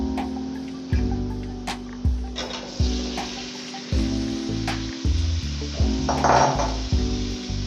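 Potatoes frying in spiced masala in a pot for aloo with egg, a continuous sizzle broken by repeated rhythmic clanks and scrapes of a spoon against the metal, close and fairly loud, with no talking.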